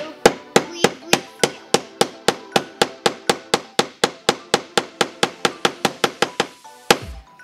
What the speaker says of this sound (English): And we're hammering in the side of